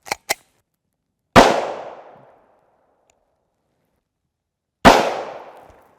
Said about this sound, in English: We'll take 2 shots out of the 4-inch Glock here